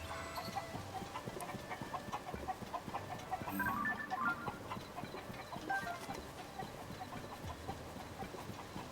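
Chickens in The Legend of Zelda: Tears of the Kingdom clucking softly in short scattered bursts over a quiet, steady game ambience, with no talking.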